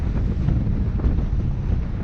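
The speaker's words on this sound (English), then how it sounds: "Oh, it's windy." Strong wind blows across an open beach and buffets the microphone in a steady low roar with gusty surges, with no other sound standing out.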